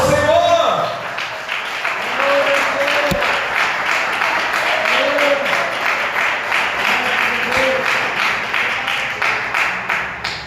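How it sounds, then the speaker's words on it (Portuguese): Steady, loud applause from a church congregation fills the space, with voices calling out over the clapping before it tapers slightly at the end. "Vamos aplaudir bem forte ao Senhor."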